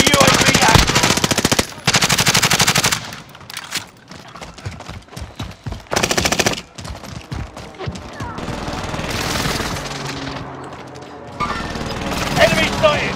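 Video game gunfire in a multiplayer match comes as loud, sustained machine-gun bursts, broken by gaps, rapid single shots and more volleys, with shouted game voice callouts mixed in.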